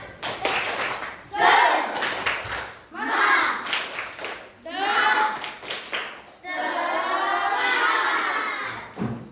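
Fourth-grade children in a classroom stand and do a tepuk semangat chant, shouting rhythmic lines in unison with bursts of clapping, four loud phrases ending in a sustained group shout.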